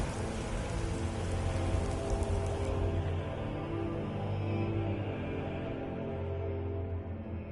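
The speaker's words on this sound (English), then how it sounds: "This rain will stop eventually." Steady rain falling in Skyrim Dawnguard, a dense, constant hiss and patter on surfaces with faint low rumbles beneath, holding an even level throughout with no talking.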